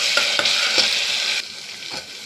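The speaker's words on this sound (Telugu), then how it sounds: "ఇప్పుడు 1 స్పూన్ అల్లం వెల్లుల్లి పేస్ట్ వేసుకొని బాగా కలుపుకున్నాం" Ginger garlic paste fries in oil for a mutton paya curry, a loud close sizzle with several spoon-stirring scrapes, the sizzle easing off toward the end.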